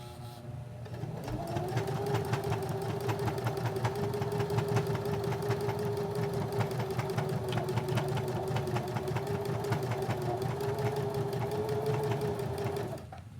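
A sewing machine stitching an elastic pen holder runs in one continuous, rapid, evenly pulsing hum up close for most of the span, then stops, with no talk over it.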